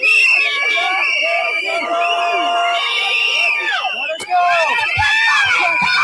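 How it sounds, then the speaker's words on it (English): An angry crowd confronts federal agents outdoors in snow, with dense overlapping shouting, screaming and whistling that stays loud and continuous throughout, with a brief dip near the end. "the angry crowd threw snowballs and screamed at the federal agents"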